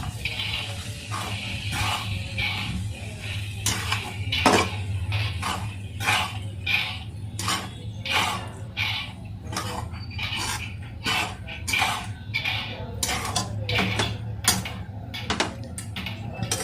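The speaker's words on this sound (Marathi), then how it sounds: "चांगले मिक्स करून घेऊ" A spoon stirs puffed rice (churmure) with other ingredients in a pan to make sushila, a Marathwada breakfast dish, giving repeated close scraping and clinking strokes over a low steady hum.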